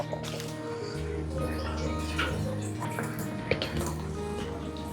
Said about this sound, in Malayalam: നമുക്ക് ഇതിൻ്റെ വെള്ളം ഊറ്റി കളയാട്ടാ.